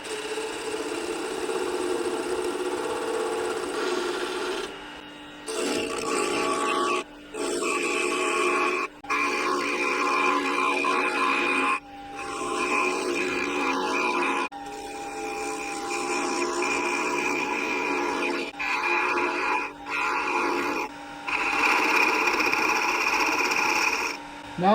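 A wood lathe with the tailstock engaged turns a Christmas ornament under a gouge, giving a steady close whir with scraping cuts. The sound drops out briefly several times as the work pauses.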